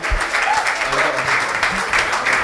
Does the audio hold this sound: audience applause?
yes